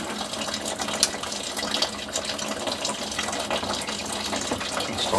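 Brewing liquid runs out of a kettle in a steady, splashing gush that continues without a break.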